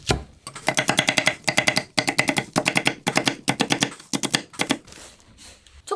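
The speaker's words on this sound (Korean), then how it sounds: "대파는 흰 부분만 그냥 어서더서 썰어주세요." Knife chopping the white part of green onions on a cutting board for kimchi, a fast steady run of crisp knife taps in bursts with brief pauses, close and loud with no talking.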